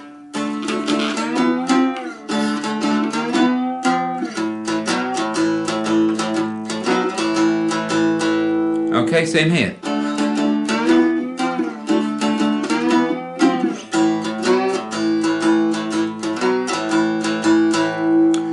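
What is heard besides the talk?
two-string cigar box guitar playing twelve bar blues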